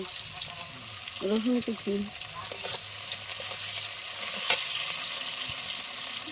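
Chopped garlic frying in a pan while cooking chital fish muitha, a steady broadband sizzle running throughout, with a brief murmur of voice partway through.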